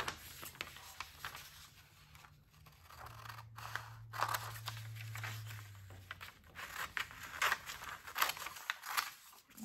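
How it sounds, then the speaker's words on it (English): Crisp snips and rustles of scissors cutting through paper craft material, close up and intermittent, over a faint low hum. "Actually, I think I'll just use scissors."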